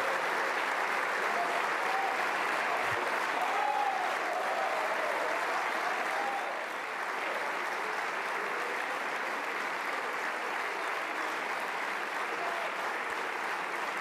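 A large assembly rises in a standing ovation for French Prime Minister Michel Barnier after his last speech: a dense, sustained roar of clapping that stays even for the whole stretch, with a faint voice briefly audible.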